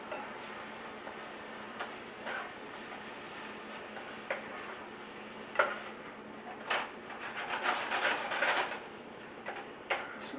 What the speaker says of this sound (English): Just mix that rice in like that.